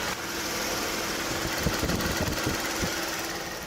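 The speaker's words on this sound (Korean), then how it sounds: "바로 가까이서 엔진 사운드 담아드리도록 하겠습니다." A Genesis BH 3.3 GDI car engine idles steadily up close with the bonnet open, a smooth even hum with faint mechanical ticking and no talking.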